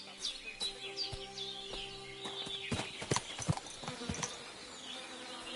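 Horse hooves clip-clop steadily on a hard surface at moderate distance, mixed with birdsong and some faint background voices.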